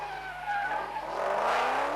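Racing car in a 1988 Uniroyal Production Car Championship round spinning its wheels under heavy throttle, tyres squealing and smoking; a loud, steady screech with engine drone that swells toward the end, no talk.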